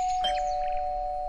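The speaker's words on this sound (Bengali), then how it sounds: "তমালের কথা শেষ হতে না হতেই কলিং বেল বেজে উঠল" A calling bell rings in an audio-drama house scene, a single sustained electronic tone held steadily throughout, close and clear.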